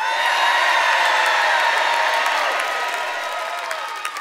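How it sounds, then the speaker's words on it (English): A live audience cheers, whoops and applauds loudly and continuously, a dense crowd roar that tapers slightly toward the end, at a comedy-style confession show. "give him a cheer."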